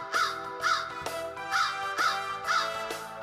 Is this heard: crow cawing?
yes